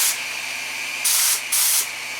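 Compressed air hisses from a Fuji Q5 Platinum HVLP spray gun for car painting in two loud, close bursts over a steady background hiss, no talking.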